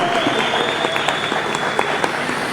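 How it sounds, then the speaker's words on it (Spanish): Brief burst of audience applause welcoming a speaker at a seminary panel, dense clapping throughout with a faint steady tone running beneath. "Recibimos con un fuerte aplauso al maestro Rafael Ramos Pérez"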